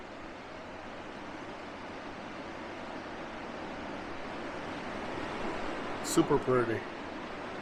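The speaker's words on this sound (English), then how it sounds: "Look at that beach. Look at the sand." Waves wash steadily onto a white sandy beach as a soft, continuous rushing surf in the background, with a brief spoken comment over it near the end.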